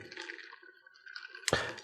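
A cracked boiled egg is dipped into a bowl of water, with soft gurgling and trickling followed by a sharp splash near the end.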